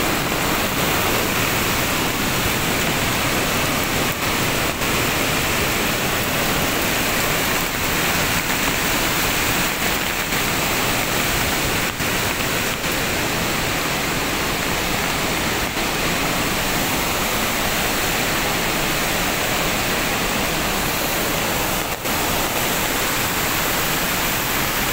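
A swollen river rushes hard at Wawa Dam after heavy upstream rain, a loud, steady roar of churning water filling the whole stretch with no letup and no voices.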